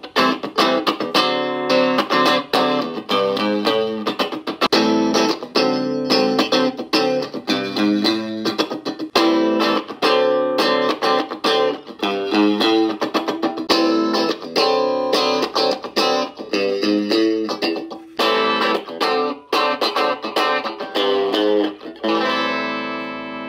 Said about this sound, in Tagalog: so clean tone muna tayo.